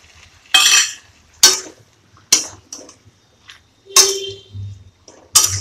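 A spatula scrapes and stirs thankuni (pennywort) leaves with rui fish in a pan, in six sharp, separate strokes with short quiet gaps between them and no voices.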